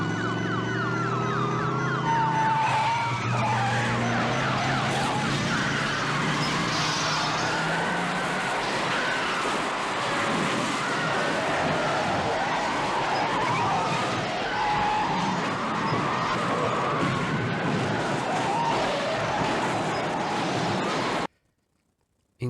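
Police cars in a city car chase through Chicago, crashing into each other: dense, loud roar of engines, tyre screeches, sirens and crunching impacts filling the scene continuously before cutting to near silence at the end.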